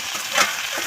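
Ash gourd pieces tipped into a pan of browned onions fried in dried-fish oil, giving a short burst of loud, close sizzling that swells midway and keeps crackling steadily, with no voices.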